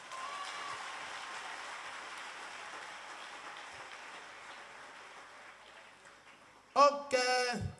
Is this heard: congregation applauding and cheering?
yes